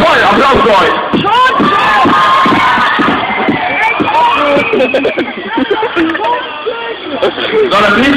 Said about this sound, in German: Applaus für euch.